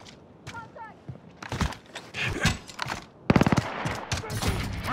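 Gunfire in Call of Duty Modern Warfare during a Domination match on Hovec Sawmill, bursts of rapid automatic shots and single cracks at close to mid range, mixed with voices talking over the action.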